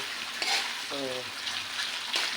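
Canned Delimondo corned beef frying in a pan gives a soft, continuous sizzle at close range, with a brief stir or scrape partway through.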